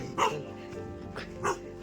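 Dogs bark near a village well in the Konkan countryside: three sharp, fairly close barks at uneven intervals over a low, steady background.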